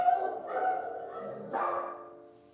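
A dog barks in a few short, fairly close yips and whimpering barks over about two seconds, with quiet pauses between them.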